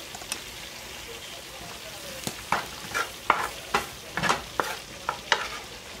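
Chicken pieces frying in a pan give off a steady low sizzle, broken by sharp crackles and pops that come every half second or so in the second half.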